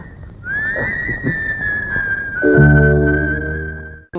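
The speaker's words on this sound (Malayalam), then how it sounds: "നർമ്മവും ഉദ്വേഗവും ഇഴവരിഞ്ഞു കിടക്കുന്ന ആ ചുളം വിളി ചിത്രത്തിന് നൽകിയ മൊമെന്റം ചെറുതല്ല" A whistled background theme from the Malayalam film Mukundetta Sumitra Vilikkunnu plays as a clear sustained melodic whistle, then a full orchestral chord swells underneath before the music stops abruptly.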